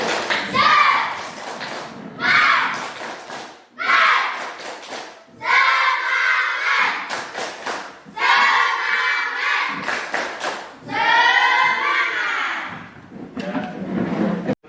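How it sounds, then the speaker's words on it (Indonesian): Classroom of children performing a rhythmic tepuk semangat clapping cheer, chanting together in loud bursts separated by short pauses, claps and voices mixed at close range. "Coba tepuk semangat lagi biar tak ngantuk"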